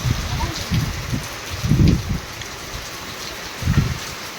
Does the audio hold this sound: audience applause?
no